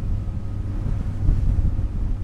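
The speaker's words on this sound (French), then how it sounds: "On est face au vent, on a quelques petits embruns sur le visage" Headwind over a Leopard 46 power catamaran running at about 23 knots, a steady low rushing roar with microphone buffeting and engine and water rumble beneath, no voices.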